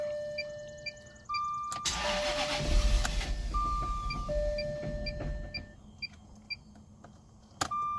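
A Jaguar car engine cranks with a starter whir and sputters briefly without catching, accompanied by sharp clicks and electronic beeps from the car, fairly close and moderately loud.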